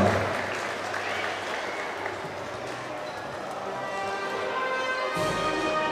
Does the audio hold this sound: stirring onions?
no